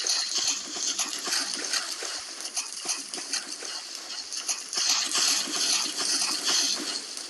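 A character in a survival video game runs across water, making continuous rapid splashing and sloshing footfalls that stay loud and dense throughout, with no pauses.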